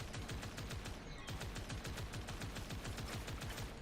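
A vehicle in the Destiny video game fires its weapon in a rapid, continuous burst of evenly spaced shots, loud and close, with a brief hitch near the start.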